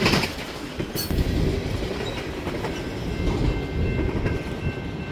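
A Norfolk Southern freight train passing close by in Fostoria, Ohio, a loud continuous rumble with clattering wheels on rail joints and occasional metallic squeals throughout.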